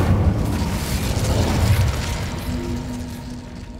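Incendio fire spell cast in the video game Hogwarts Legacy, a loud whooshing burst of flame with a deep rumbling boom that fades over a few seconds, with no voices.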